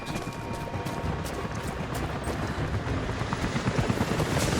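A helicopter's steady, rumbling rotor drone in the video game Rise of the Tomb Raider holds throughout, with crackling bursts like distant gunfire scattered over it, growing slightly louder toward the end.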